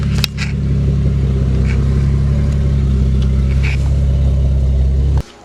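Big-turbo Toyota GS300 engine running loudly up close on its first drive, a deep steady drone holding for about five seconds before cutting off sharply.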